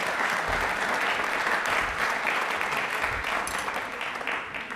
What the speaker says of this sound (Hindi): तालियां एक बार जोरदार, प्लीज एक बार जोरदार।